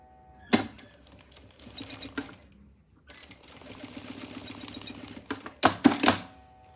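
A sewing machine stitches polyester thread on a creative wallet project, running in short bursts of rapid mechanical clatter separated by pauses, close and clear with a few louder knocks near the end.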